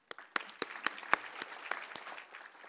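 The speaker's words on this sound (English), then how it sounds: "If you could join me in a round of applause for the panelists." A small audience claps for panelists at the close of a forum panel discussion, scattered sharp individual claps forming a short, fairly quiet round of applause.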